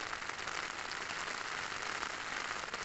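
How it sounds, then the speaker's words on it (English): Heavy rain pouring down at night on a farm on the Ross of Mull, a dense steady hiss of drops drumming on a surface, fairly faint and continuous with no talking. "It's throwing it down"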